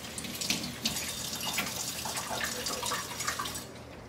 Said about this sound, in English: I'm going to run this under the water.